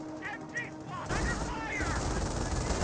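Bursts of US .30 cal machine gun fire in a World War II strategy video game, distant rattling volleys that swell into heavier continuous firing with battle noise.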